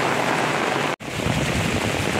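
Heavy rain falls as a steady, loud roaring hiss, broken by one brief dropout near the first second before resuming; no voices.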